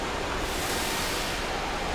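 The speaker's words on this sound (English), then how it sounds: "And we can go under the waterfall here." A waterfall in a Pokémon video game gives off a soft, steady rushing hiss of water that stays even and fairly quiet, with no voices.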